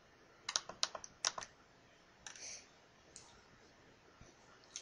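Keystrokes on a computer keyboard while entering text into an Excel 2007 spreadsheet: several quick clicks clustered near the start, then a few scattered taps, close and fairly quiet with no voice.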